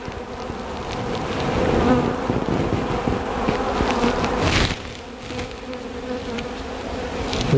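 Honey bees swarm around an open beehive being inspected, a dense continuous buzzing of many insects that stays loud and close throughout, dipping briefly partway through.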